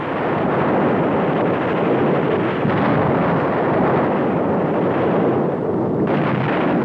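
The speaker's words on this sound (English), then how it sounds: "Pinned down by enemy fire, Mouse and Father Sampson were doing their b" Battle scene from a 1957 television drama about paratroopers under enemy fire: a dense, continuous roar of gunfire and explosions, loud and rumbling throughout with no distinct pauses.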